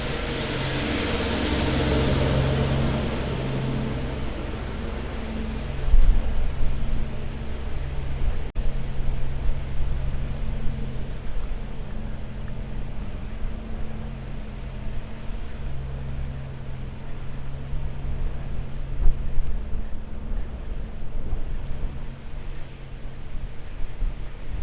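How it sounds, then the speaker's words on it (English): A street sweeper working along a city street in Frederiksberg, Denmark, giving a continuous broadband whooshing and mechanical rumble that stays loud and steady, near at first and persisting throughout. "And the street sweeper is out too."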